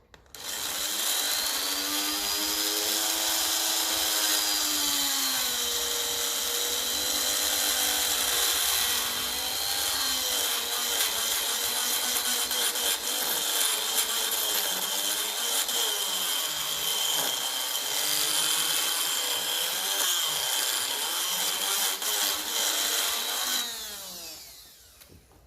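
Power grinder working on a metal part of a 1954 Ferguson TEF 20 diesel tractor, a loud steady high-pitched whine with wavering pitch, running continuously for about 23 seconds before spinning down at the end; no voices.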